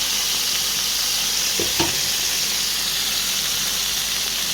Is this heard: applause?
no